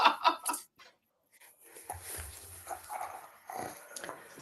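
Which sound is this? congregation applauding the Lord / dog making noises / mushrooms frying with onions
dog making noises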